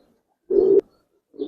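A young male Giribaz pigeon gives a short, close coo, followed a moment later by the start of a second, quieter one, with silence between.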